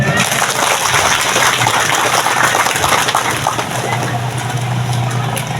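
Audience clapping at a Balinese temple ceremony, Melaspas and Mupuk Pedagingan at Pura Puseh, a continuous wash of hands blending with a constant droning background hum, steady and fairly loud throughout.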